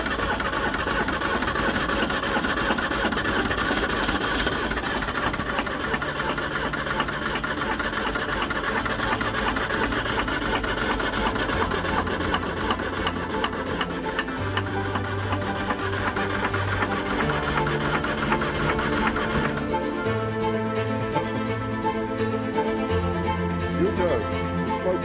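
Land Rover Series III barn find with a new battery fitted, its engine running steadily at full throttle, a dense, continuous mechanical drone with rattling texture throughout, close and loud.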